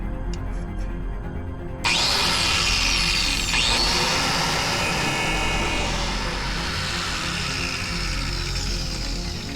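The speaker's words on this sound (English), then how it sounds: "Grinder's going that way." Angle grinder cutting through a truck's steel exhaust pipe during a cat-back exhaust install, starting abruptly with a loud harsh screech that continues steadily up close with a grinding whine.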